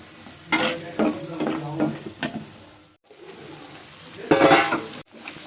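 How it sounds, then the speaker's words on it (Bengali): Peas and spices being stir-fried in a pan while cooking a rohu-style katla fish curry without onion or garlic, with bursts of scraping, stirring and sizzling broken by brief pauses. "সমস্ত মশলা আমি ভালো করে কষিয়ে নিচ্ছি"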